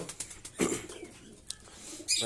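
Pet pigeons kept by a breeder coo in short, soft bursts on a calm evening after rain, with a couple of sharper noises breaking in.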